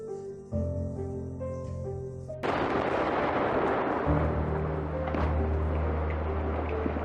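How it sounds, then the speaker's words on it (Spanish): Tense music plays, then a sudden massive explosion bursts in and leaves a deep, rolling rumble beneath the continuing music. "Al ver que una explosión gigante va hacia ellos"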